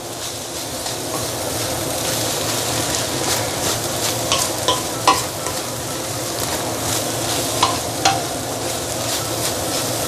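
Fried rice with luncheon meat stir-fried over high heat, a loud continuous sizzle with intermittent scraping and tossing of the wok throughout.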